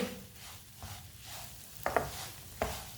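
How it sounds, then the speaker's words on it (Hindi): Semolina for halwa is roasted in a pan over medium heat, with a spoon stirring and scraping in soft strokes, a few sharp clinks against the pan and a faint background sizzle. "सूजी को 4-5 मिनट के लिए भून लेंगे।"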